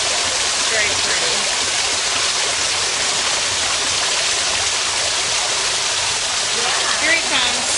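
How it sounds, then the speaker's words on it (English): A small water fountain in a sunken garden splashes in a continuous, bright, steady wash of falling water heard up close, with faint voices in the background. "We got a little water fountain up here."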